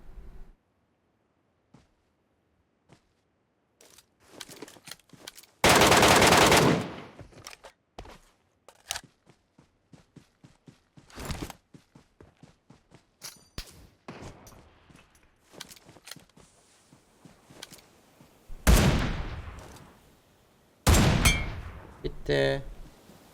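Gunfire in a PUBG Mobile solo ranked match, with scattered single shots and several loud sustained bursts over about twenty seconds, punctuated by clanks and other game effects.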